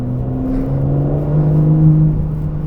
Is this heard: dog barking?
no